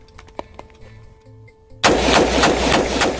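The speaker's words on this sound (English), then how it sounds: "but I'm going to fire about 5 shots" An AR-15 rifle fires a rapid string of semi-automatic shots, loud and close, coming right after a quiet stretch of faint clicks and handling.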